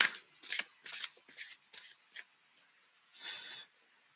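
Tarot cards are shuffled close by in a series of short papery riffles and slides, about six quick bursts followed by a longer softer shuffle, with no voice over them.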